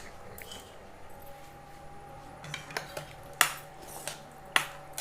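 Fishless fish curry being stirred in a pot, with soft scraping and a few sharp spoon clinks against the metal rim, quiet at first and building to scattered louder knocks near the end, no voices.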